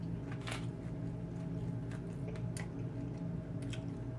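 Close, wet chewing of Chinese takeout food with water chestnuts, with soft squishy bites and a few sharper crunchy clicks over a low steady hum.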